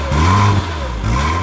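A Porsche Boxster S engine revs up close and loud with a steady, throaty drone that swells near the end, and no voices over it.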